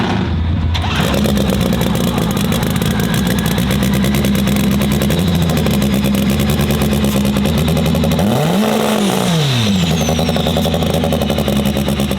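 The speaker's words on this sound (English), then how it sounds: "So they pull them out here, get the engines warmed up a little bit" Racing snowmobile engines warm up loudly in the pits at a snowmobile race in freezing weather, a steady close idle and rumble with one sled blipping its throttle in a quick rising-and-falling rev near the end.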